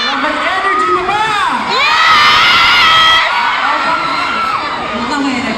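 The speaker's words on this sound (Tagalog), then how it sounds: "rinig na namin yung mga sigaw niyo" A big concert crowd at an outdoor pop music event in Davao cheers, whoops and shouts in rising and falling swells, loud and close, with high screams layered over a steady roar.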